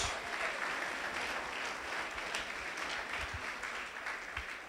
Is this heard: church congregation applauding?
yes